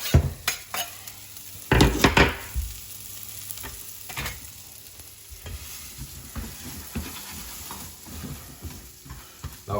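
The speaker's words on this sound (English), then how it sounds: "Straight in with the onions now, you can hear that sizzle." Chopped onions sizzle and fry in hot oil in a pan, a steady crackling hiss broken by several sharp scraping stirs and clacks of a utensil against the pan, with no voices.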